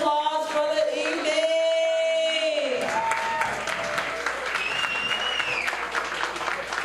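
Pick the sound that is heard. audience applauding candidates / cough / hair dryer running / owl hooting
audience applauding candidates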